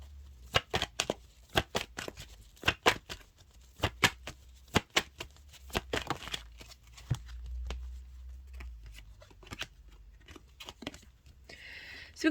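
Tarot cards are shuffled by hand, a long run of crisp riffling snaps and flutters coming in irregular bursts, close and fairly loud with a low hum beneath.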